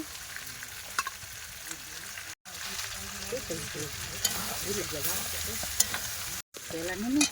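A large chicken, about four kilograms, sautéing and being stirred in a hot pan: steady close sizzle with repeated scraping stirs, two short breaks, and faint voices in the background.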